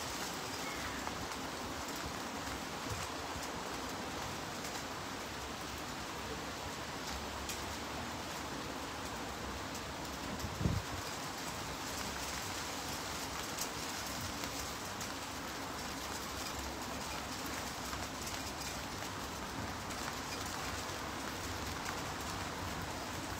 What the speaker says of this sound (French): Impossible de rester ici, il pleut.